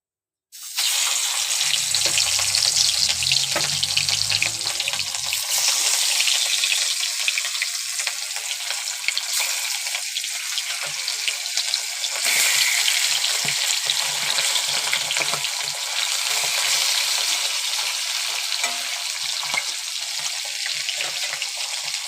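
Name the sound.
fish frying in a very hot kadai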